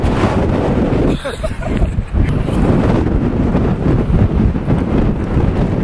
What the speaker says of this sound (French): Il y a un peu de vent, ouais c'est vrai.